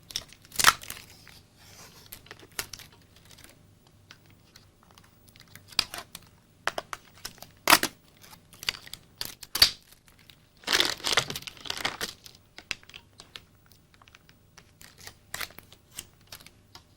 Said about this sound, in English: Then take off all the plastic tape.